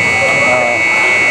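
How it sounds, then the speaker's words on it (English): Basketball buzzer sounding on a neighbouring court at a high school tournament, a steady electronic tone held through the whole moment while a commentator talks over it. "So you heard that buzzer, that was on court one"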